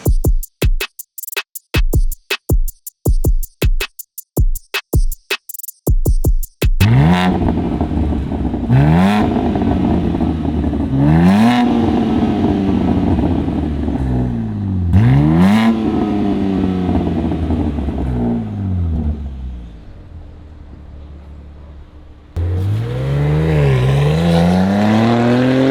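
BMW M3 Competition with a fully titanium cat-back exhaust and Valvetronic valves, first snapping through a rapid series of sharp, crackling blips, then letting out several long, loud revs that rise and fall, with exhaust burble between them.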